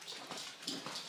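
A dog whimpers softly in a short, faint burst of high whines, close by and alone.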